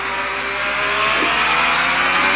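An F1 car in the F1 22 video game runs in full wet conditions at the Emilia Romagna GP sprint race, a sustained high engine whine climbing steadily in pitch, close and loud, with no talk.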